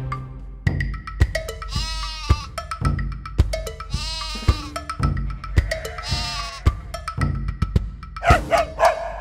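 A black sheep bleats repeatedly in quavering, wavering cries set against a plucked, bouncy children's nursery-rhyme accompaniment, with a sharper cluster of bleats near the end.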